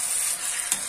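Green chickpeas sizzle and hiss in a pan with cooked tomato masala while being stirred, a brief, bright frying sound with a soft scrape near the end.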